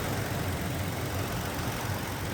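The 3.5-liter V6 of a 2016 Toyota Tacoma TRD Sport idles steadily, a smooth, even, continuous rumble heard close up with no voices.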